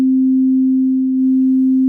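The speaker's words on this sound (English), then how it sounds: "you're going to get a tone, what is called a sine wave" A steady pure sine-wave reference tone from a harmonica bending web app holds one pitch for nearly two seconds, loud, clean and unbroken, with nothing else heard.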